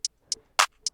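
A clap on the 2 and 4 with hi hats in an FL Studio beat: three sharp, thin hi-hat ticks, then one fuller, louder clap in the gap, evenly spaced, dry and alone.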